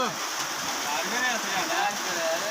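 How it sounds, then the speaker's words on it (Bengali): Steady rain falls on a cucumber patch, a soft continuous hiss of drops throughout, fairly quiet and close, with a voice faintly present in the background. "মেলা দিন পরে বৃষ্টি"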